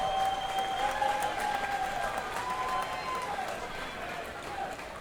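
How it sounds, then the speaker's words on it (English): After a three-round boxing bout, a crowd at a boxing event gives steady applause for both fighters, moderately loud and slowly thinning, with an announcer's voice carrying over the clapping. "A round of applause for both these fighters."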